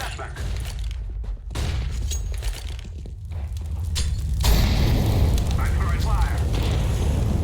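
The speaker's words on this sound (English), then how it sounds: "Flashbang." A flashbang grenade goes off in a first-person shooter match, a loud burst and crackling that swells into a sustained bright roar, heard alongside other game sounds.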